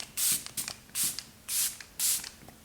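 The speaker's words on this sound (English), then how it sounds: "setting spray, we're going to use the Makeup Revolution Super Fix Super Hold Misting Spray" Makeup Revolution Super Fix Super Hold misting setting spray, ultra matte finish, sprays four quick even bursts close to the microphone, with soft rustling between pumps.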